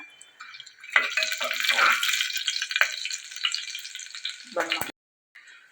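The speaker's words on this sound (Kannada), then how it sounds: "ಎಣ್ಣೆ ಹಾಕ್ಯಾನ ನೋಡ್ರಿ ಈಗ ಆನಂತರ ಈ ಏನು ಮಸಾಲೆಗಳು ಅದಾವಲ್ಲ ಇವೆಲ್ಲ ಚೆನ್ನಾಗಿ ಹಾಕೋಣ ಅಷ್ಟು ಹಾಗೆ ಸ್ವಲ್ಪ ಫ್ರೈ ಮಾಡಬೇಕು ಈಗ" Whole spices frying in hot oil as the base for a vegetable pulao, a dense crackling sizzle that runs steadily for several seconds, then cuts out briefly near the end before resuming.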